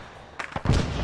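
White phosphorus grenade detonating in a military shooter game: a short sharp pop followed by a second heavier burst that spreads into a hissing, crackling rush, close and fairly loud.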